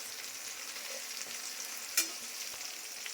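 Potatoes and tomatoes fry in a pan on a home kitchen stove, a soft, steady sizzle broken once by a brief utensil clink.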